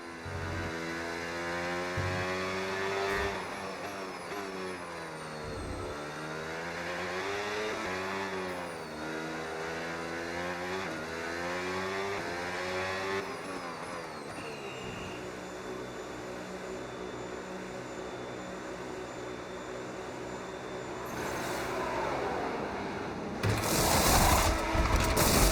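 Audi race car lapping a track in a racing video game, its engine note repeatedly climbing and dropping through gear shifts and braking, loud and continuous, with a brief burst of noise near the end and no talking.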